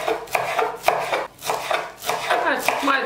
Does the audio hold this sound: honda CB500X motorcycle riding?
no